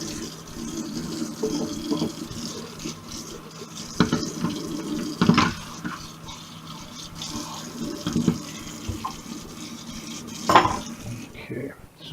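Water runs into a kitchen sink fitted with a filter while dishes and cutlery clatter now and then, with a few sharp knocks over the steady flow close by.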